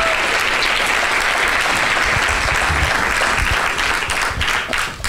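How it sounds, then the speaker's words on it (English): A large audience claps loudly and continuously at a Bay Area civic talk event, a thick wash of applause that thins slightly near the end. "Give him another round of applause,"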